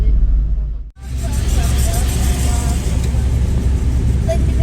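Car rolling downhill on a forest road through a tiger reserve near Dhimbam, with a steady close engine and road rumble, broken by one brief dip in level near the start.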